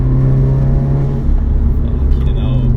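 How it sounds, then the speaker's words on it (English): A 400 bhp Skoda Octavia vRS accelerates with a dual-clutch gearbox. A loud, close engine rumble carries a throaty induction note and a steady low drone from the cabin, and voices talk over it. "Getting a little induction noise."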